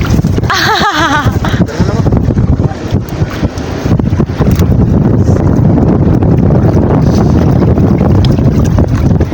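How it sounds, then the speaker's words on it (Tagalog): Strong northeast monsoon wind blows at sea, a loud steady buffeting roar over the microphone aboard a boat, with a brief voice near the start. "malakas yung amihan"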